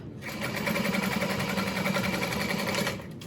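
A sewing machine runs continuously for about three seconds, top stitching through a bulky seamed panel, with an even rapid mechanical whir close up, starting and stopping cleanly.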